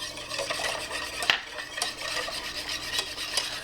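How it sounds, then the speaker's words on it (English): Whisk stirring poultry seasoning, onion powder, garlic powder, salt, pepper and cornstarch in a bowl for a chicken noodle casserole, a steady close scraping and rubbing with a few sharper metallic taps against the bowl. "I'm going to whisk this, trying to get most of that cornstarch to dissolve."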